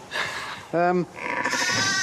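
A Suffolk ram sheep bleats once, a short loud nasal bleat standing out between stretches of people talking nearby.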